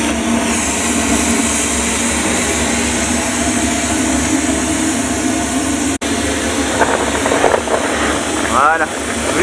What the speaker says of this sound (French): Ça y est, la vapeur sort.